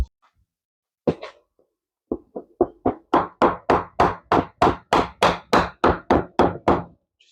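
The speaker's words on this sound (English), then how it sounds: "Just using a piece of wood to ease this off." A wooden block strikes the top yoke of a 2004 BMW F650GS motorcycle in a workshop: a few sparse knocks, then a steady run of about fifteen firm, evenly spaced taps, close and distinct, with no talking.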